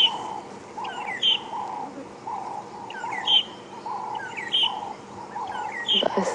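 A magpie shrike, also called long-tailed shrike, calls on a game reserve safari drive, giving repeated clear whistled phrases at a moderate distance against a quiet outdoor background.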